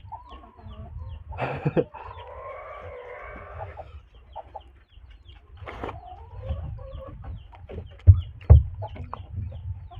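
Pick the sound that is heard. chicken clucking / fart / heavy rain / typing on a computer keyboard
chicken clucking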